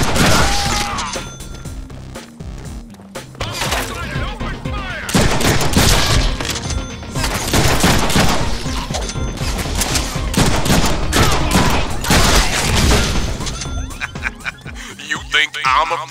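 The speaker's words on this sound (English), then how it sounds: "Break out the heavy firepower." Sustained heavy gunfire from the Deadpool video game, a loud dense barrage of rapid shots, crashes and splintering impacts that roars almost continuously for the whole stretch with only brief dips.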